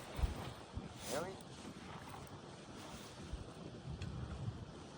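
Gusty wind buffets the microphone on an Italian mountainside before a paraglider launch, a steady rushing roar with brief louder gusts, while people talk nearby.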